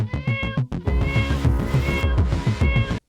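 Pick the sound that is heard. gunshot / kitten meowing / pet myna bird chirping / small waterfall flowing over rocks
kitten meowing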